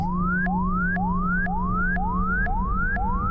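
Cockpit warning alarm in an OH-6 helicopter in the DCS flight simulator: a rising electronic whoop tone repeats steadily about twice a second over a constant low engine hum, with no talking.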